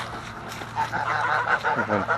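Geese honking on a homestead, with ducks kept alongside: repeated nasal honks rise and fall close by in a steady run over faint background noise.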